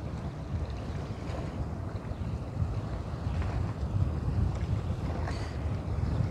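Wind from the East Sea sweeps across the broad Soài Rạp river mouth in the rainy season, a steady, gusty roar with rough buffeting against the microphone that builds slightly toward the end. Nobody speaks.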